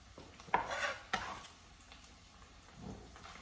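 Chopped vegetables, onion and garlic drop into a hot pan for a keto chile relleno, giving quiet close clatters and a soft, faint sizzle with a few utensil knocks.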